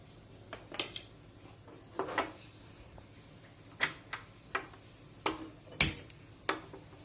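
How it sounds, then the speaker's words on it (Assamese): A kitchen gas stove is being lit: about ten sharp igniter clicks and ticks come in an irregular series over a quiet background, close and fairly crisp, with no speech. "এতিয়া মই গেছটো জ্বলাই লওঁ"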